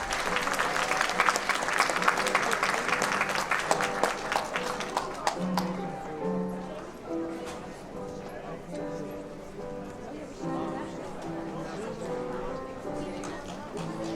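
Graduation ceremony applause for the RKYHS class of 2017 faculty: a dense crowd clapping loudly at first, then thinning, with a voice over a public address system and scattered cheering under the fading claps.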